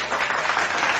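A short, dense burst of applause rings out steady and full for about a second during a live-streamed online radio show.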